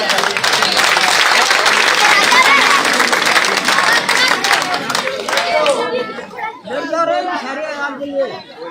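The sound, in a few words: crowd applause at election rally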